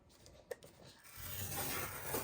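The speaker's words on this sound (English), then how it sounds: "So we are going to score this on the left, the top, and the bottom." A scoring tool is drawn across paper to crease a mini album pocket. A short tap is followed by a close, steady scraping rub that builds over the second half.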